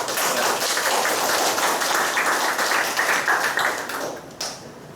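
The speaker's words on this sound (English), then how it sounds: "let's give him a round of applause" Loud, dense applause from an audience at a university publication event and closing ceremony, a steady wash of many hands clapping that fades out near the end.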